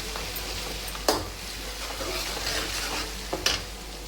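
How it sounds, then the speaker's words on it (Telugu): Ginger-garlic paste, green chillies, onions and curry leaves are stirred in hot oil for a fish curry, giving a steady soft sizzle with a couple of sharp spoon scrapes against the pan, close and without speech. "ఈ అల్లం వెల్లుల్లి పేస్ట్, పచ్చిమిరకాయలు, ఉల్లిపాయలు, కరివేపాకు మొత్తంగా కలిసేటట్టుగా చక్కగా తిప్పేసుకుందాం."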